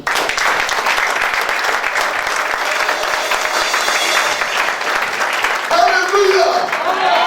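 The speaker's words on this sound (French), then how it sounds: "acclamez le Seigneur pour vous" A church congregation applauds in steady, continuous clapping that fills the room at an even level, with a voice and music rising faintly near the end.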